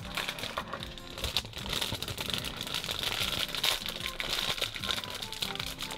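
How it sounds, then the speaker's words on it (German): Plastic bag holding Playmobil Princess bedroom set 6851 instructions, crinkled up close in continuous busy handling crackles throughout. "Das ist, glaube ich, die Tüte mit der Anleitung."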